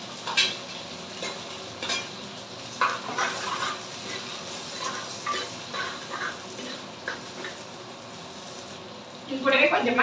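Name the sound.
onions added and frying in pan for crab curry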